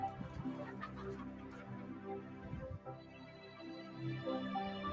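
Hens crowded into wire cages give a steady, faint chorus of overlapping clucks and murmurs, with no talk.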